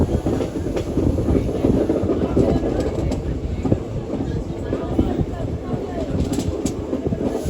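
A train between Belagavi and Hubballi rumbles along the tracks in a loud, steady low roar, with faint rhythmic clatter and some voices mixed in.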